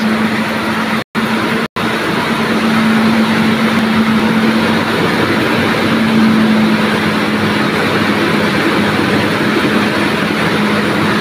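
Hauler truck rolling past in Calaguisi, Leyte, a steady loud engine and road drone with a constant low hum, holding close and even for the whole stretch after two brief dropouts near the start.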